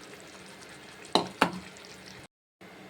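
Tamarind water poured into a simmering kara kuzhambu curry on the stove, with a steady close sizzle of frying and stirring, two sharp splashy bursts near the middle, then a brief drop to silence.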